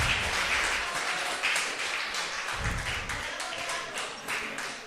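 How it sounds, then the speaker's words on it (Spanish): A congregation in a church breaks into applause, a dense wash of many hands clapping together, loud and sustained for several seconds with a few sharper claps standing out. "Le damos un aplauso"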